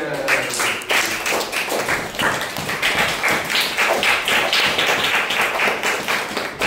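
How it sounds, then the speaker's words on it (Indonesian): Class of fifth-grade primary school students clapping together in a classroom, a steady dense patter of many hands lasting throughout, close and continuous without talk. "Oke, tepuk tangan semuanya"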